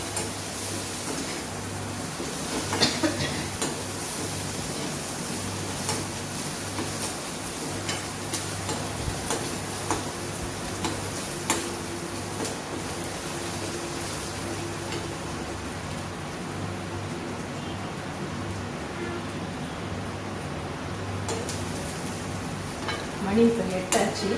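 Siru keerai greens roasting in a pan make a continuous soft sizzle and crackle, with occasional scrapes and clinks of stirring and a faint voice now and then in the background.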